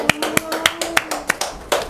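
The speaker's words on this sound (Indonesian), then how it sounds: "beri tepuk tangan dulu buat Mbak Indah" A small group gives a short burst of scattered applause for Mbak Indah in a classroom. About a dozen separate, close claps land in an uneven rhythm over two seconds.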